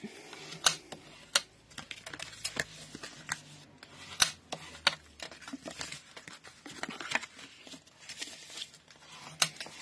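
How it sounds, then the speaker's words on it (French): Scoring fold lines on scrapbooking paper for a paper box, a run of quick irregular clicks, scrapes and crisp taps close by, fairly soft with brief louder snaps. "Donc là, vous marquez bien vos plis."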